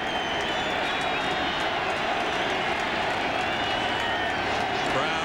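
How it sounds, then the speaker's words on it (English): Stadium crowd at a 1993 Michigan at Wisconsin college football game, a steady dense roar of cheering for the Wisconsin Badgers defense, broad and continuous throughout, with a commentator talking over it. "Crowd getting into it for the Badger defense"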